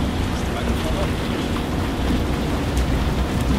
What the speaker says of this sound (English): I'm a bit afraid here because it's too exposed and it's raining.